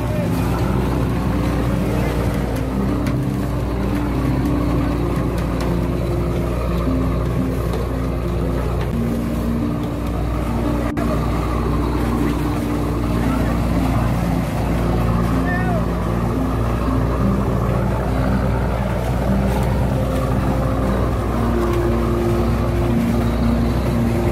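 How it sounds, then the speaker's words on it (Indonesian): Motors of bluefin tuna fishing boats heading to shore, a steady droning engine hum with low tonal throb and wind, continuous throughout with faint voices at times. "kapal-kapal tersebut menuju ke tepi pantai"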